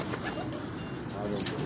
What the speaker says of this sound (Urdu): یہ جونسر فرانسے کو کراس کبوتر ہے